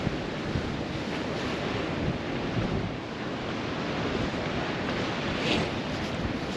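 Rough sea beside Whitby West Pier, with steady broadband surf and wash rolling continuously, mixed with gusty wind buffeting the microphone and no talk over it.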